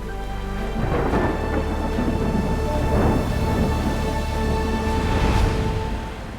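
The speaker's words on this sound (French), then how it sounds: "Une violente tempête s'abat sur lui et une tornade arrive droit sur sa bicoque" A violent storm sound effect for a cartoon: loud, sustained rumbling thunder rolls over heavy rain, swelling several times over six seconds, with a steady tonal hum beneath and no voices.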